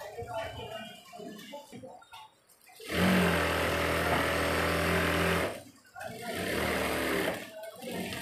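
An electric sewing machine runs in two long stitching bursts, loud and steady, joining a kameez sleeve along a marked line, with someone talking before and between the runs.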